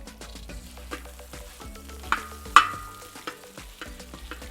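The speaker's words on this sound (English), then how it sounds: "All right, next I'm adding our breakfast sausage." Breakfast sausage frying on a discada, a close sizzle with scattered metallic scrapes and taps from a spatula, including two sharper knocks midway.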